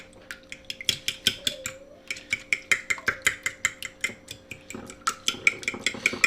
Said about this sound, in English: Get a fork and just whisk it a little bit.